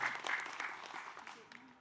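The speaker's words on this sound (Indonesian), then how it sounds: "Tepuk tangannya sekali lagi, Masya Allah." Applause from an audience at an Islamic religious talk, a dense patter of clapping that fills the short stretch and tapers off slightly toward the end, with voices faintly present underneath.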